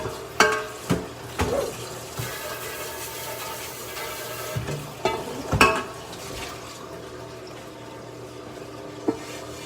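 Water running from a kitchen tap while a pot is rinsed out during shrimp dumpling preparation, a steady faint stream with a few sharp knocks and clatters of the pot.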